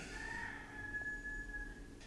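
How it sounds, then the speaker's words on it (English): Two roosters crowing outside an apartment, a faint and distant drawn-out crow held for over a second against a low background hum. "I have appointed two roosters, to be in charge of the music outside of my apartment"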